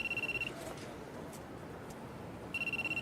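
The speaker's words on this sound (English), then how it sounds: "What a surprise! It's my cell" A cell phone rings in a visual novel game with a steady, high electronic warble that pulses rapidly, sounding briefly, falling silent for about two seconds, then starting again.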